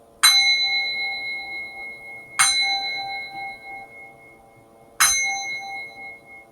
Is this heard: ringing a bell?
yes